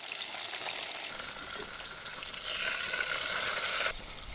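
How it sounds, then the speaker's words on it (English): Fish frying in oil in a pot outdoors at a wild bushcraft camp, a steady close sizzle and crackle running throughout with no voices. "in the first way of cooking, I fry the fish in oil"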